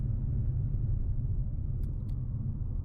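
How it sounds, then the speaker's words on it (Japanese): A low, steady engine hum from a Honda Vezel e:HEV hybrid on the highway, with road rumble, constant and fairly quiet throughout, with a couple of brief faint clicks near the end. "加速が続くとエンジン走行に切り替わりますが、ホンダのエンジンらしい気持ちのいい音がします"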